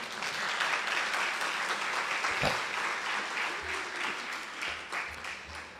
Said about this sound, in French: Déjà, sous vos applaudissements, s'il vous plaît.